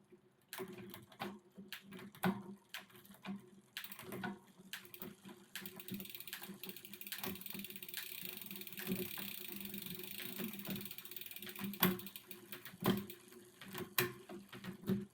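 Shimano Ultegra gears on a Giant Liv bicycle, previously stuck, shift down with a run of close, sharp clicks and mechanical clunks against a low background whir. No one speaks.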